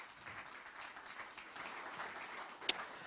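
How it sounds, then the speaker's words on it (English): Audience applauding Kathy at an entrepreneurship summit, a steady, moderately faint patter of clapping throughout with one sharp louder clap near the end. "Let's give Kathy a wonderful round of applause."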